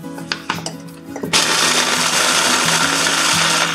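A few clinks and knocks, then a blender roars to life grinding cookies into crumbs, steadily at full speed, loud and close, until the end.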